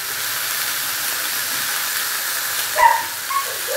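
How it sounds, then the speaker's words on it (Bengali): Leafy greens drop onto hot oil in a pan, giving a steady close sizzling hiss that swells briefly with a burst of crackle near the end. "এরপরে আমি ওপরে শাকগুলো দিয়ে দিচ্ছি।"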